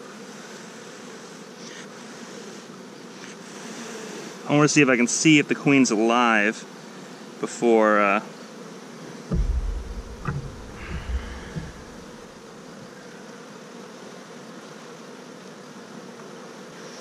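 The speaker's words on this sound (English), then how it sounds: "I've got 100 fanning bees on my fingers" Honeybees buzz and fan during a hive inspection, a constant droning hum under a person talking in short bursts, with a brief low rumble of handling partway through.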